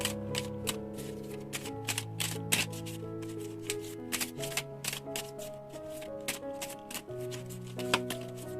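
Oracle tarot cards being shuffled by hand, a steady run of soft riffling and slapping card sounds, close and fairly quiet, with faint musical tones playing underneath.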